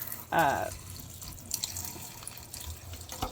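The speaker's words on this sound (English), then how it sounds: "So now that we have our pump on, we can just simply turn our water on and run it." A camper faucet fed by a water pump runs in a steady soft hiss of flowing water, with a short squeak or tone near the start and a few small clunks and splashes later.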